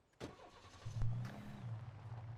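A car engine in the video game Alan Wake cranks and turns over with a short mechanical rasp, then settles into a steady low idle rumble that holds near and moderately loud to the end, with no talk.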